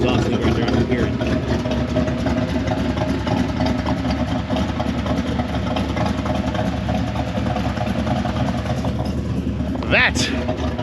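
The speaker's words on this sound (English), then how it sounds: "Still got a little exhaust leak right there. I can hear it." A turbocharged LT1 V8 idles with a low, steady rumble and a ticking exhaust leak, close up and loud, while someone talks over it; a short high whistle rises near the end.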